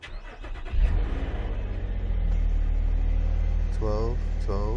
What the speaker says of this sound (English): Let us start the vehicle.